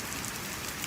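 Rain falls steadily in a park, a soft continuous patter of drops on surfaces, close and even throughout with no voices.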